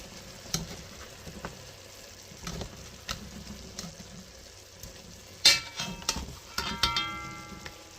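Flipped oxtails frying in a pan, a steady close sizzle with scattered sharp pops and crackles, some louder spatters toward the end, no talking.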